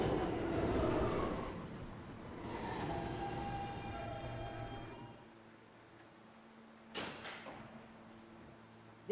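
An R160B Q Express subway train in a subway simulation game rumbles along, loud at first then fading to a quieter hum, with a door sliding and a clank near the end.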